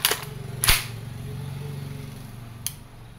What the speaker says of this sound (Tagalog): This is gas blowback rifle